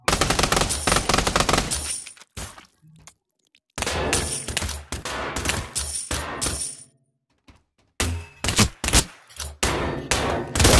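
Loud, rapid bursts of automatic gunfire from the VR shooter Pavlov VR, several dense volleys separated by brief pauses, sharp and close with no voices over them.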